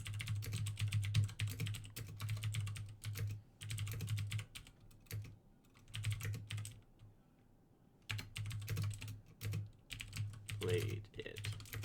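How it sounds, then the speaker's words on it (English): A computer keyboard is typed on close to the microphone in irregular bursts of rapid clicking, with brief pauses between them and a low hum underneath. "Sorry if you're picking up my keyboard."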